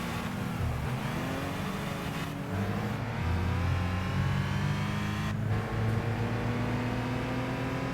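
Race car engines from Gran Turismo 5 drone steadily through a French championship race, with a continuous revving note that climbs and drops through gear changes, no speech.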